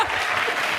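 Brief burst of dense audience clapping at a live comedy radio show in Chicago, a short, even roar of many hands at moderate volume.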